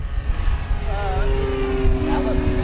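A radio-controlled FMS model airplane drones overhead at an RC competition, its propeller whine wavering in pitch as it banks, with wind buffeting and people talking nearby.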